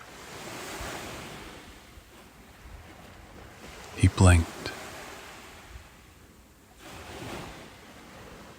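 Ocean surf washes steadily at a moderate distance along a foggy shoreline, with a soft wind-blown hiss, while a narrator's voice speaks briefly over it near the middle.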